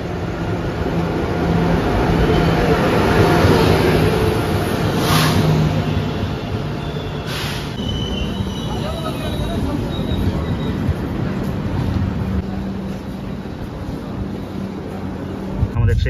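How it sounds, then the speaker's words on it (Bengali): The Sealdah–Jalpaiguri Humsafar Express pulls out of Berhampore station with a steady rumble of wheels on rails and faint squeals, heard from on board with voices at times. "ট্রেন ছেড়ে দিল বহরমপুর স্টেশন থেকে"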